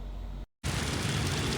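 Heavy rain pours steadily during a storm in Kolkata, a broad rushing wash that briefly cuts out, then returns loud and dense.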